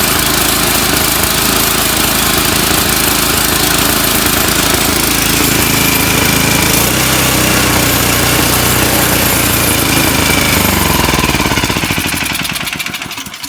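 A John Deere 724D snowblower engine runs after a tune-up, a loud, steady, close-up mechanical drone that continues unbroken and only begins to fade near the end.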